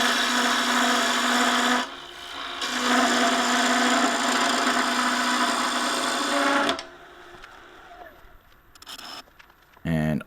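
A woodturning lathe spins while a cutting tool skims old texture marks off a turned succulent pot. A loud, steady whir with a bright, scraping edge runs for about seven seconds, stops, and then gives a short final burst.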